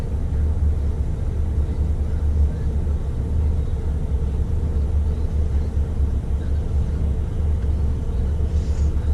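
A school bus rumbles by outside with a deep, steady engine drone that stays moderately loud and even throughout, with no talking.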